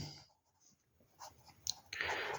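A sentence written by hand on paper, faint scratchy pen strokes in short bursts that grow louder and more continuous toward the end, heard close with no voices.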